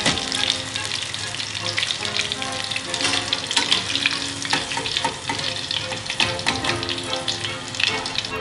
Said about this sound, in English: I like using coconut oil to fry, because that's how we used to do it in the Philippines.